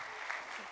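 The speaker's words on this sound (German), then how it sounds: "Gebt ihr einen Klatschopper für ihren Glauben." Faint, steady applause from a congregation at a church service fills a short stretch as a continuous soft wash of clapping.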